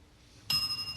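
A single bell at a spelling bee strikes sharply and rings on with a bright, sustained tone that lingers and slowly fades, close and alone after a near-silent start.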